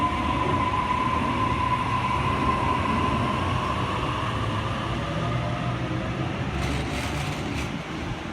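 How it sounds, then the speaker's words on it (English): A Sydney train pulls away from the platform at Thornleigh station with a steady, loud rolling rumble and a faint high whine from the motors, with a few brief wheel clicks near the end and no talk. "Richmond via Macquarie Park service is now departing."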